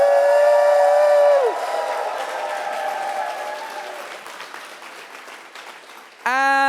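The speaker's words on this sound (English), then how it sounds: "So for Javaria, give us a roar." A live audience at a clay sculpting competition final roars and applauds for a contestant. A shrill whistle-like tone opens, the cheering then tapers off, and a sharp tonal burst cuts in near the end.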